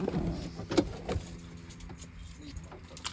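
Car keys jangle and clink in a few quick bursts beside a Dodge 392 Hellcat during a garage compression test, with faint background rumble and sparse metallic rattles trailing off.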